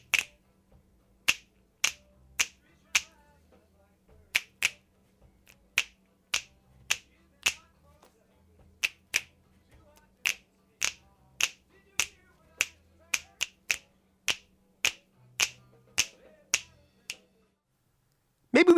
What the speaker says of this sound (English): Finger snaps.